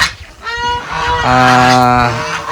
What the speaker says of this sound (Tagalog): ang kagandahan sa tawag nito gansa, nag-iingay po yan pag ibang tao yung papasok, gaya po natin ngayon na nag-iingay